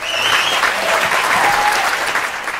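A crowd claps loudly and continuously in a scene from a Nepali comedy film, a dense steady wash of applause with faint voices mixed in.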